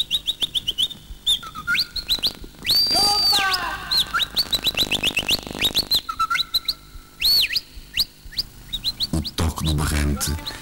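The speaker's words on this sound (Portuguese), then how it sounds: "Escutam-se assobios, sons que ecoam nos altos desfiladeiros ou gargantas." Human whistles ring out in the high gorges of Kalandula, Angola, a series of sharp rising and falling calls repeated in bursts, with a voice heard briefly among them.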